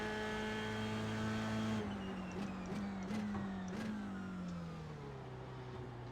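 An F3 race car on a flying lap at the Nurburgring in the iRacing video game, its engine holding a loud sustained high-revving whine, with a brief dip and quick gear shifts before settling into a steady drone.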